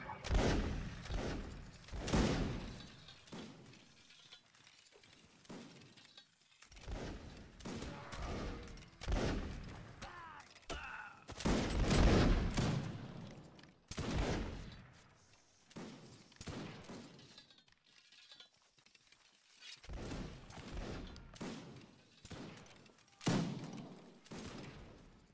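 Musket volley fire from platoon lines in a line battle video game: repeated bursts of overlapping shots, some ragged and rolling, others sharp cracks, with distant booms between them.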